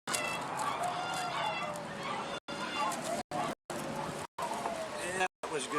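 Geese or chickens honking and squawking loudly and continuously nearby with a dog joining in, a noisy overlapping chorus broken by several short silent gaps.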